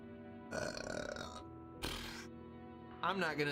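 A man belches loudly on a live stream, with several long, croaky belches spaced across the clip amid his talking.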